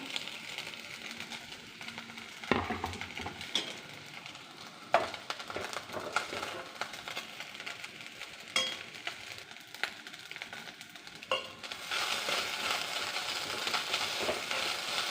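Onions frying in a pan for puttu upma give a steady sizzle, broken by irregular scraping and clattering stir strokes, close and moderately quiet throughout.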